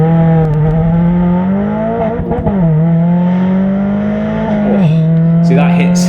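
A supercharged Mazda MX-5 NC engine screams loud and close, revving hard in a steady climb, with quick gear changes that barely dip the revs before it pulls again.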